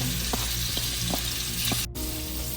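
Steady, close sizzling of onions frying in hot oil, with a few soft stirring clicks and scrapes.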